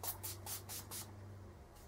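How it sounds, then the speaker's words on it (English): Several quick hissing bursts from a spray bottle misting a face after foundation makeup, about five in a row at an even pace, then a pause and one more spritz, close and soft. "I just hold it a few inches away from me, and I spray in a circular motion"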